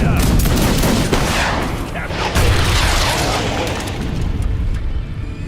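Dense musket volleys and booming explosions from a large battle in the strategy game Age of Empires 3, a continuous loud roar of overlapping gunfire with heavy low thuds and faint voices mixed in.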